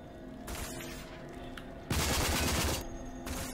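Bursts of gunfire in RAGE hit the player from an unseen shooter, with a sharp rattling volley early on and a louder, denser burst of shots in the middle, fairly close.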